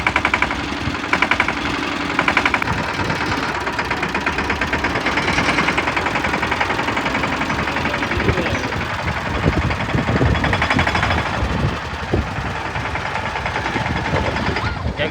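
A farm tractor engine runs slowly in low gear while pulling a new seed-sowing implement, giving a steady, loud mid-pitched chugging throughout, with voices talking over it.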